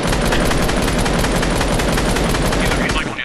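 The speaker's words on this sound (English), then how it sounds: "I can, like, get a better gauge on which direction the gunfire's coming from" Video game gunfire rattles in loud, dense, continuous bursts, sustained automatic fire filling the whole moment with no pause.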